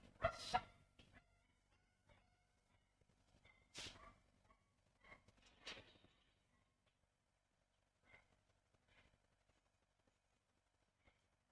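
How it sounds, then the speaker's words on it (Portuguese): A dog barks in scattered bursts, several sharp yelps early on and a few fainter barks later, somewhat distant against a quiet indoor background. "caraca, esse cachorro aí."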